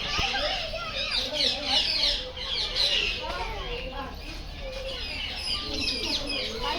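Plum-headed parakeets call from trees in a park in Vadodara, with repeated high chirps and tweets over a busy background of children playing and distant voices.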